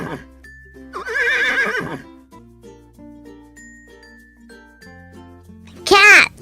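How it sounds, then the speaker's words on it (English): A horse whinnies in a loud, wavering burst, then again briefly near the end, with soft jingly music and faint tones in between on a children's farm-animal recording. "Horse. Look at Mama Horse. Her baby is called a foal. What sound does her baby make?"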